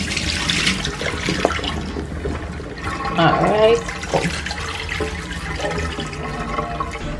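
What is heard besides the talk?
washing a potato under running tap water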